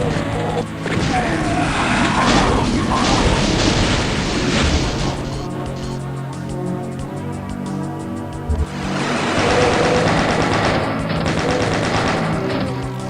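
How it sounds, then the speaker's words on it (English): A chaingun fires in a Doom map, a video game: loud, dense rattling bursts of rapid fire mixed with crashing impacts, then a quieter lull before another heavy barrage. "Definitely wanted to have the chain gun before doing this."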